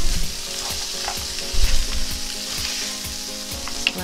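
Vegetables seasoned with Mrs. Dash and nature seasoning fry steadily in a pan for a vegetarian stuffed bell pepper filling, giving a continuous close sizzle with occasional louder pops and crackles and no talking.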